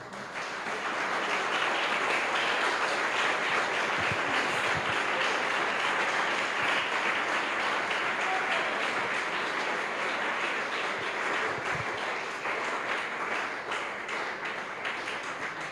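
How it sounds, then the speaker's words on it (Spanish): A church congregation gives a long, sustained round of applause that fills the room at moderate loudness, with a few sharper claps standing out now and then and no speech over it. "Un aplauso para Él."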